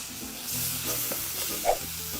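Ground beef and mushrooms sizzle in a stainless steel pan for a risotto, a soft, steady frying hiss with light stirring scrapes.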